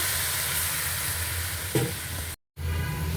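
Cauliflower sautéing in a pan gives a continuous close sizzle with faint stirring, steady throughout with one brief scrape and a short break of silence near the end.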